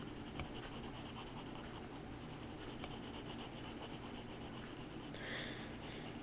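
A pencil shades a drawing on paper with soft, continuous rubbing and scratching strokes. The sound is faint and close, with a slightly brighter scrape near the end.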